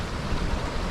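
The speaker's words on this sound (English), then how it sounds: "you just hear the sound of the river" Steady rushing of the Shannagh River, a continuous broadband wash of flowing water, close and fairly loud, with no other sounds over it.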